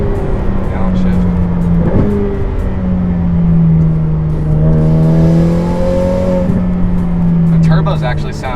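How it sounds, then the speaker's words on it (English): A Ferrari F8 Tributo's turbocharged engine fitted with aftermarket downpipes and exhaust pulls hard in a constant loud roar, its pitch dipping after a gear change, then climbing again before easing off, with a voice faintly under it. "The turbos actually sound really good now that we've put the downpipes and the exhaust on it"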